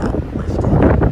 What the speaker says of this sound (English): it is a crazy windy day today